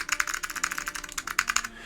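Rapid typing on a clicky Alps-switch keyboard in a polymer case, loud and close, with crisp, bright clacks in a steady fast rhythm that stops just before the end.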